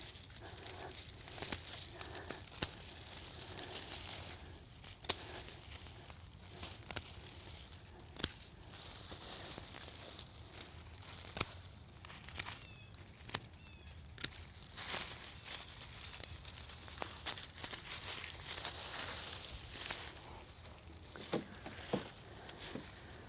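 Aster plants being cut back in a garden: repeated crisp snips and crinkling rustles of stems and dry foliage, close and fairly steady throughout, with occasional sharper clicks and tearing sounds and no talking.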